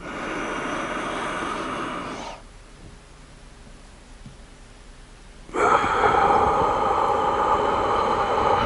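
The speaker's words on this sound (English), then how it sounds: "Listen to the sound of the breath as you inhale." Deep, slow breathing during a guided meditation, with a loud, breathy inhale-like rush lasting a couple of seconds, a quiet pause, then another strong airy breath, close and alone without talk.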